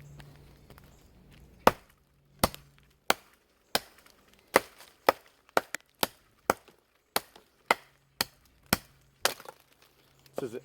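A kukri blade hacks into a dead tree with sharp, woody chops, about a dozen strikes at a steady, slightly uneven pace, close and loud against a quiet background.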